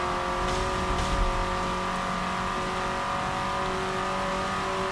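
A race car in a racing video game runs a lap in hood view, its engine holding a loud, steady, droning whine throughout with no talking.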